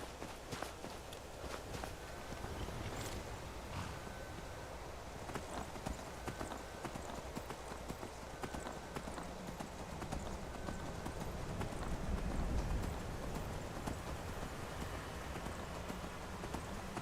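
Horse hooves clip-clop steadily in the video game Skyrim, a continuous run of hoof beats with a rain-like wash behind it, moderately loud and unbroken.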